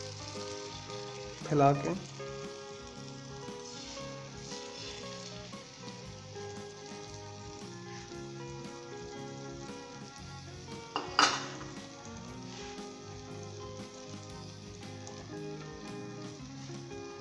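Beaten eggs sizzle steadily over tomato slices in a pan on medium heat, with a couple of sharp utensil clinks against the pan and a brief voice speaking over the frying.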